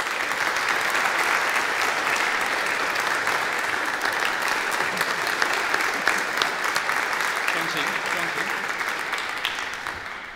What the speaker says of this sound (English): give Jonty one more round of applause